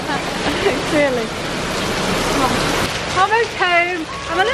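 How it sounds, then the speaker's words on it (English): Heavy tropical rain pours down in Malaysia as a dense, continuous hiss, while people talk and exclaim over it throughout. "I'm a little bit bothered if we get rain like this."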